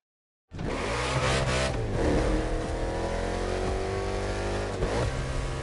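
Race cars in a NASCAR-style urban street race in Hawaii in The Crew Motorfest roar to life at the green flag, a sudden loud engine burst followed by sustained revving and rising acceleration tones from several cars close by.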